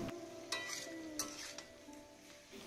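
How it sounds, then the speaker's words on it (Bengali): Chicken cooks in a pan with spices and beaten yogurt, giving a quiet sizzle under several sharp scrapes and clacks of a spoon as the mix is stirred and fried. "ব্যাস, এইগুলোকে দিয়ে এবার ভালো করে আরও একবার কিন্তু কষিয়ে নেওয়ার পালা"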